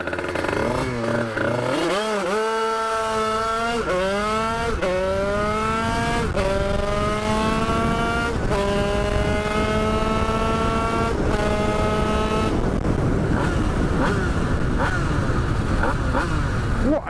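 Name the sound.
50cc moped engine racing down a straight road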